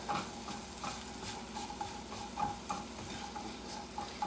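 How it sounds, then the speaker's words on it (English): Soft, steady sizzling of vegetables frying in a pan, with faint stirring scrapes at a regular pace and no voices. "You can hear them starting to sizzle a little bit."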